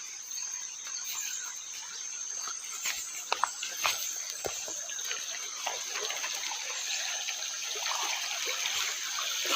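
Spring water flows and trickles steadily nearby, a continuous bright rushing with faint birds or insects in the background.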